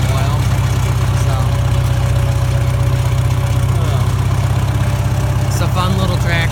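A 1944 McCormick Deering O4 all-fuel orchard tractor engine idles steadily, a loud, even low-pitched chugging that holds throughout while someone talks faintly over it.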